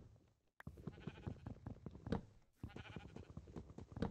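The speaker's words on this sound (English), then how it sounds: "The sheep don't like what's coming for them." Sheep in the Minecraft video game bleating repeatedly in short bursts, fairly close, over soft background game sounds with a couple of brief drops to silence.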